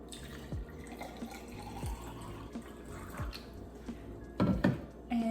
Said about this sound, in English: Put in some Brita water,